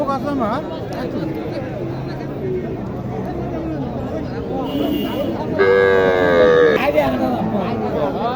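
Cattle lowing at a crowded rural cattle market in Naogaon, with a long moo rising over constant chatter of many people and busy background noise.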